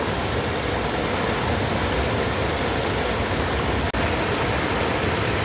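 A forest stream rushes continuously in a dense, steady wash of noise, loud and close, with no voices.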